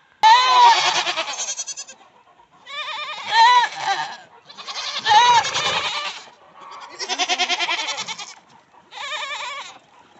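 Goats on a farm near Asheville, North Carolina, bleating loudly and close in five separate drawn-out calls with short silent gaps between them.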